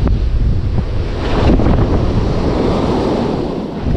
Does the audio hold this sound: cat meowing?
no